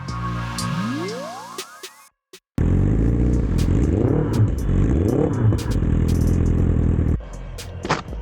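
A BMW S1000RR sport motorcycle, running in limp mode and held under 4,000 RPM, rides down a street with a loud, close engine drone that rises and falls through several rev swells after a brief revving start and short pause.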